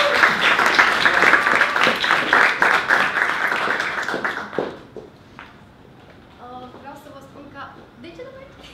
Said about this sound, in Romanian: Să aplaudăm pe Laura